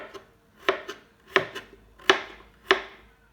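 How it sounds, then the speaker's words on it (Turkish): A knife chops potatoes into cubes for a savory potato cake, striking a board in four crisp, evenly spaced chops with softer taps between them, close and clear. "Şimdi patateslerimizi doğruyoruz."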